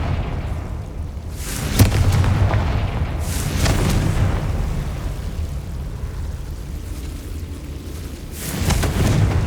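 The Confringo spell exploding in Hogwarts Legacy, a series of loud fiery blasts with rumbling booms that swell and fade, three main bursts spread across the moment.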